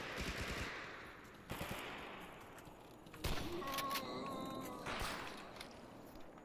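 Automatic gunfire in the STALKER video game as players shoot at zombies, with rapid bursts of shots over a dense, noisy game background and several louder volleys spread through the stretch.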